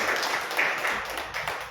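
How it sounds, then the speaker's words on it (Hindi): A church congregation claps their hands together during a Hindi-language sermon, producing a fairly steady patter of applause at a moderate level with no clear voices over it. "ताली बजाओ।"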